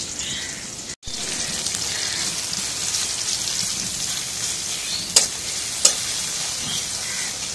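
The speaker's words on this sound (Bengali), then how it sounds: "কড়াইয়ের মধ্যে পেঁয়াজ ছেড়ে দেওয়া হয়ে গেছে।" Onions frying in oil in a wok outdoors on a very windy day, giving a steady, moderately loud hiss and sizzle with a sharp clink or two near the end and no voices.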